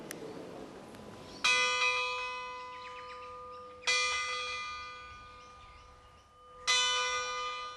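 A bronze bell is struck three times, each strike a bright, ringing clang with sustained, shimmering overtones that slowly decay before the next; no voices.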